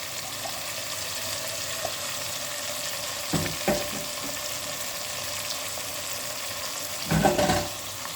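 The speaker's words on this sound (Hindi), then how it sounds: "आपने चिकन और प्याज़ों को बहुत अच्छी तरीके से भून लेना है" Chicken and chopped onions fry in a karahi, giving a constant close sizzle broken by a few louder stirring scrapes near the middle and end.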